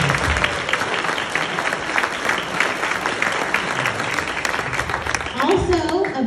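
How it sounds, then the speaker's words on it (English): Sustained applause from an audience at an annual meeting and awards event held outdoors before a hot-air balloon backdrop, steady and loud throughout, with a voice starting to talk near the end. "Let's give them a big round of applause."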